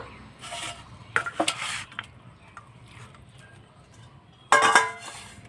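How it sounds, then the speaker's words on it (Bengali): Cooked chicken poured from one pot into another in a home kitchen, with bursts of metal clattering, scraping and clinking of cookware, a loud clang near the end, close and otherwise quiet. "তো এবার আমি একটা অন্য পাত্রে ঢেলে নেব।"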